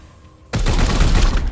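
Rapid, loud automatic gunfire erupts abruptly in Warhammer 40k: Chaos Gate Daemonhunters, a dense close burst following a brief quieter lead-in.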